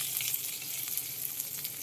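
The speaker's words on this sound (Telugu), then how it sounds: "వేసేసుకుని వేయించేయాలి నేను వేసేస్తాను ఇప్పుడు దీన్ని" Spices and green chillies fry in hot oil with a steady close sizzle and light crackling pops, continuous and even, no voices.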